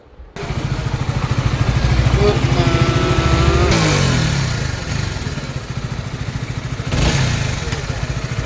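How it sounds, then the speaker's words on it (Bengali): A 2019 Honda CBR motorcycle engine runs steadily close by on a trial ride in for servicing, a throbbing mid-pitched drone that swells and eases, with people talking over it. "যে বাইকটা আমরা ট্রায়াল দিচ্ছি এটা হচ্ছে হন্ডা সিভিআর উনিশের মডেল"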